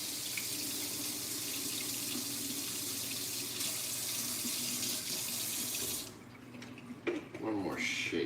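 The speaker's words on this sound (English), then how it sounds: "A little hot water in there." Hot water pours steadily from a kitchen tap into a sink while someone cooks with onion and garlic, a loud continuous rush that stops near the end, followed by a few small clatters.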